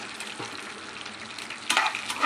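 Green and dried red chillies fry in hot oil for a tomato pachadi, giving a close, steady sizzle with a burst of louder crackling near the end.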